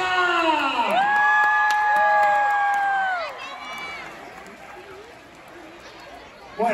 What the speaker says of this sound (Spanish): recibirle con un fuerte aplauso a nuestro invitado sorpresa